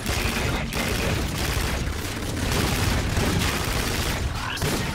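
Dense, continuous gunfire from a Call of Duty Infinite Warfare singleplayer battle, with bursts rolling over one another at a steady loud level for the whole stretch and no pauses between shots.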